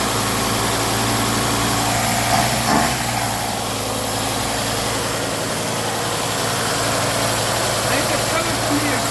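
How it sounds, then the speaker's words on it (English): A 1958 A120 4x4 Travelette engine idles steadily and close, smoking from the exhaust, a constant droning rumble with a faint mechanical whine, continuous throughout. "Trying to adjust the idle right now"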